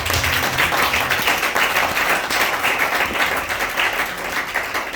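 A church congregation applauding, a steady, dense wash of many hands clapping that fills the room evenly and holds at full strength throughout.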